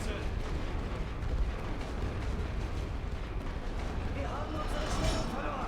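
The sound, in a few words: artillery fire in video game The Great War: Western Front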